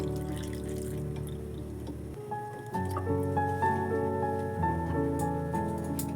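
Water poured into a pot holding cut raw mango, a close splashing, gurgling pour over a steady background hum, with a short pause and then drips and sloshing.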